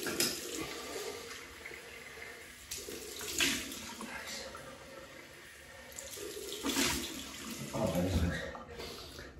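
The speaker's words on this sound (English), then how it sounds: "cold water rinse." Cold water runs steadily from a bathroom tap for a rinse during a wet shave, a quiet hiss and splash with a few fuller gushes as hands pass under the stream.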